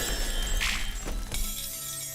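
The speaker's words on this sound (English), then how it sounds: "that ice shattering is still kind of loud" Ice shatters in the video game Hands of Necromancy II: one loud, brittle crash early on, followed by a few duller knocks over steady game ambience.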